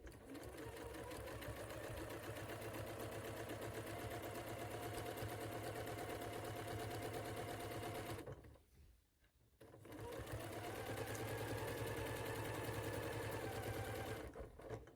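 A sewing machine runs a quilt seam for a Rocky Star quilt, with a close, steady, rapid mechanical whir of stitching. The sound cuts out for about a second partway through, then resumes at the same pace.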